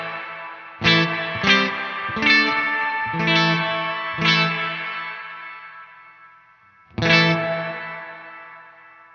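An electric guitar played through overdrive, distortion and chorus pedals strikes six sustained, heavily driven chords, each ringing out with a shimmering, swirling decay, loud and close with no voices.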